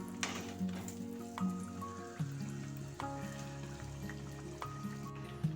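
Rice appam, freshly flipped, frying in oil over a medium flame: a soft, low bubbling sizzle runs throughout, with steady tonal hum and occasional small clicks, fairly quiet and without talk.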